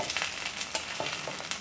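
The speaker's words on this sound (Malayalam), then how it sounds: "ഇനി നമ്മൾക്ക് ഇതിലേക്ക് ഈ വെണ്ടയ്ക്ക വഴറ്റിയതുണ്ടല്ലോ, അത് നമ്മൾക്ക് ഇട്ട് കൊടുക്കാം." Sautéed okra goes into a simmering gravy for okra mappas, giving a close, steady sizzle with faint clicks of stirring.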